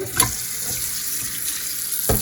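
Water runs steadily from a tap into a pot, a continuous splashing hiss, with a couple of clinks at the start and end.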